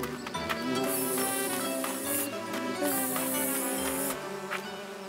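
A cartoon bee's buzz comes as high, wavering, synthetic tones in two long stretches, set against a busy animated soundtrack with music-like tones and small effects.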